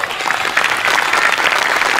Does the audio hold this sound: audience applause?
yes